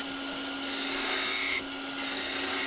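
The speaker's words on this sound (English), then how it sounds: "now I've got the spindle gouge and I'm going to cut downhill with each cut" Spindle gouge cutting a turning wood spindle on a lathe, a steady continuous hiss and whir of the cut with a slight shift in tone partway through, close and alone.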